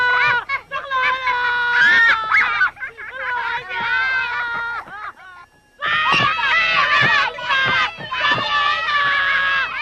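Loud, strained screaming with harsh harmonic wails in two long bursts separated by a brief pause, mixed with excited voices.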